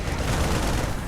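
Siege tank cannon fire aimed at Marines during a StarCraft 2 Terran-versus-Terran match, heard as a dense, booming burst of battle noise with continuous low rumble and crackle throughout, loud and without talk.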